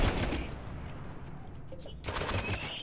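Rapid gunfire in a RimWorld battle while shooting at a turret, quick bursts at the start and again near the end, with a steadier stretch between and no speech.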